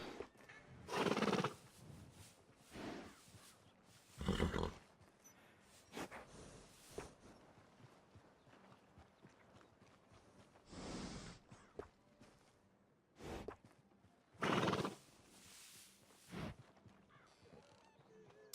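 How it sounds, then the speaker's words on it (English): A horse in the video game Red Dead Redemption II neighs several times in loud, drawn-out whinnies separated by pauses, with faint movement sounds in between. "That's an interesting looking horse."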